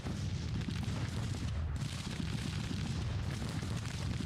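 Continuous booming artillery fire in the Civil War strategy game Grand Tactician, a dense unbroken rumble of overlapping cannon blasts with no voices.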